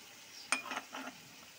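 Tomato paste dropped into a pan of frying Kashmiri chicken, a brief sizzle after a small clatter, two short bursts of hissing, fairly quiet, no talk.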